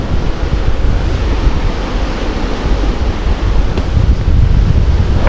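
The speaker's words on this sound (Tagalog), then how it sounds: "Gadi lang kalakas yung hangin." Strong wind buffets the microphone at San Roque beach, a loud, continuous roaring rumble with surf blended underneath, no voices.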